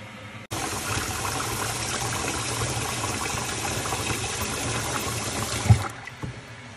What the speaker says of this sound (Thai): ล้างนะจ๊ะล้างจักสองน้ำ